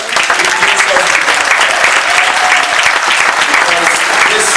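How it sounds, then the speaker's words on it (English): A college graduation audience claps loudly and continuously, a thick, even roar of many hands filling the hall from start to finish. "give yourselves a big round of applause"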